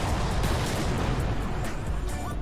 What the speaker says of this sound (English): Or I can just hit it with the cannon, because that'll blow up the bombs anyway